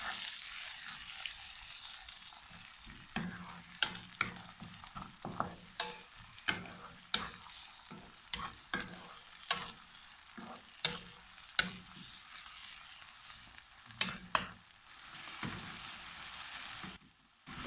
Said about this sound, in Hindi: टमाटर को भी भून लेते हैं साथ साथ।